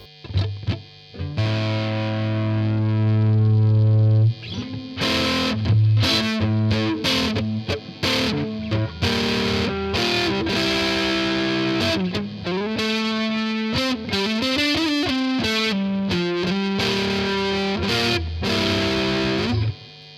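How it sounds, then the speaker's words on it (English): A heavily distorted electric guitar through a Boss Nextone amp at high gain plays loud, saturated chords and riffs with thick sustain, dropping to short pauses between phrases before ending. "You can hear it's a really powerful gain sound to it."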